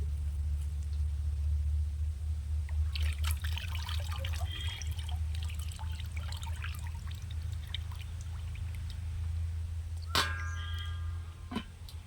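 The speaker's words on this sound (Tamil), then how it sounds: "அந்த தண்ணி வடித்து அதை யூஸ் பண்ணிக்கலாங்கிறதுக்காக நான் அதை ஒரு பத்திரமாக ஒரு பாத்திரத்தில் பிடிக்கிறேன்" Water from cooked lentils drains through a strainer into a vessel, a steady soft pour with light trickles and drips over a low kitchen rumble, ending in a few clinks.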